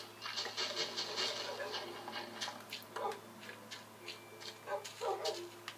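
Several dogs whimper and give short yips and barks while being ushered into an underground leaf-covered hideout, with a person speaking softly over them at close range.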